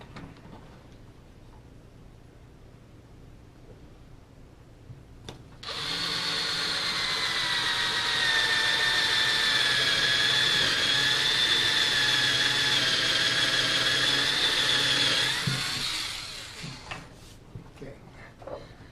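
A power drill bores dowel holes in wood, starting with a sharp rise into a loud, high, steady whine that lasts about ten seconds, then winds down into quieter handling noises.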